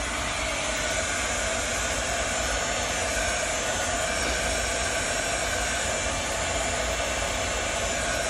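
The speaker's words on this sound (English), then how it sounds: "It's a heat gun." A loud, constant blowing roar of hot air from a heat gun runs without pause, a steady broadband whoosh with no voices.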